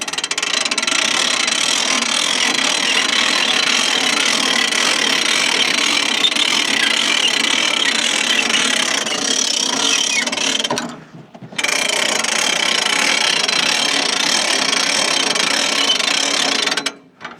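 Japa 365+ PTO-driven firewood processor runs hard, a loud continuous mechanical whir and rattle of gears, broken by one short drop about two-thirds through, close and without speech.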